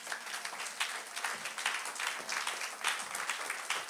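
A church congregation applauding the Lord during an online Pentecost worship service, steady dense clapping from many hands that fills the space evenly with a few stronger swells.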